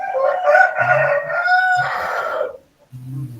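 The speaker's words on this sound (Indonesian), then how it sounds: "nanti ada suara background saya itu ayam" A rooster crowing loudly and close by in one long drawn-out call, with clucking fowl heard underneath and again briefly after a short pause.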